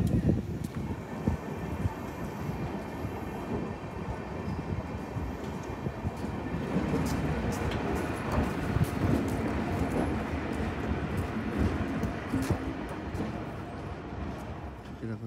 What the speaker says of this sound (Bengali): ট্রেনটা রওনা দিচ্ছে আনন্দ বিহার টার্মিনালের দিকে, ছেড়ে দিল